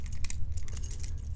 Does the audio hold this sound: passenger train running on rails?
no